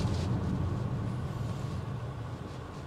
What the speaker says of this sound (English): And let's see those brakes.